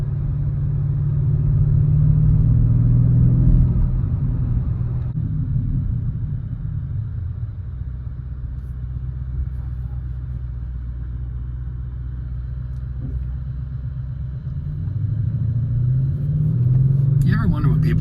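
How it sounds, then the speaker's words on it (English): An Audi RS6 Avant's V8 rumbles low and steady while driving, swelling louder at the start and end, with someone talking inside the cabin over the deep exhaust drone. "you get way more burbles out of the exhaust too"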